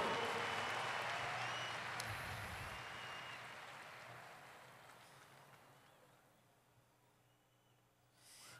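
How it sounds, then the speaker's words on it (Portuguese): Applause from a church congregation during a worship service, a broad wash of clapping that starts fairly loud and steadily dies away to near silence by about six seconds. "Vamos dar um aplauso para esses irmãos."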